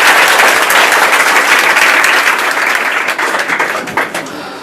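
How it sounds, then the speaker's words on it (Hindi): Loud, sustained applause from an audience at a school event honouring a top-scoring matric board student, dense clapping throughout that thins slightly toward the end. "तो इनके लिए जोरदार तालियां हो जाए।"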